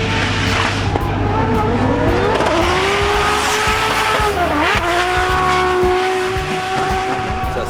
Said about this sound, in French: Le bruit de la caisse est incroyable, vous verrez.